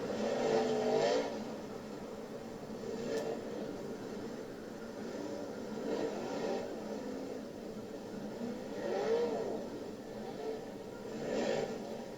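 Sprint race cars at the Knoxville Nationals roll on a dirt track under caution, their engines rising and falling in distant, fairly faint waves as the field passes behind a pace truck.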